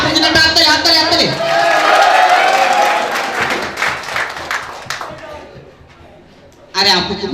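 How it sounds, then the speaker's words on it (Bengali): Audience at a university rag day gathering claps in a loose, mid-distance patter beneath continuous talking, fading toward the end before a short renewed burst of noise. "আরে আপু কিন্তু হাততালি হাততালি হাততালি"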